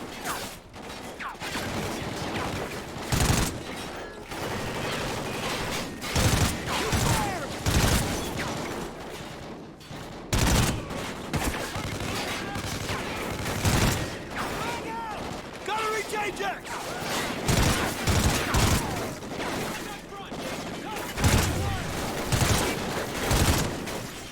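Rapid bursts of gunfire from a shooting video game, loud and dense with repeated volleys and short pauses, while a player talks excitedly over the shooting.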